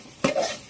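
A single brief scrape of a spoon stirring masala with Kashmiri chili powder and turmeric in a pan. It is close and short, with a faint hiss after it.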